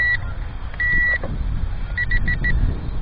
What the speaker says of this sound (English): I don't know why it does a 3 beeps like that.